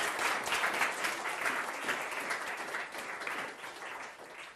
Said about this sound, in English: So can we please have a huge round of applause for Chris Ryan?